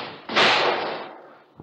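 Car door crashing off and clattering down as a radio drama effect: one loud slam with a rattling tail that fades, followed by a small thump at the end.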